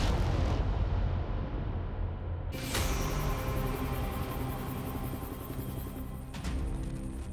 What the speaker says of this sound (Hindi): इटली के कार्गो शिप पर दोबारा मिसाइलें दागी गई।